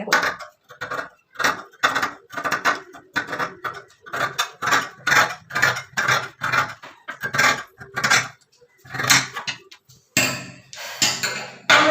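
Scissors cutting fabric for a garment sleeve, a steady run of crisp snipping strokes close by, each cut followed by a brief pause, with no talk.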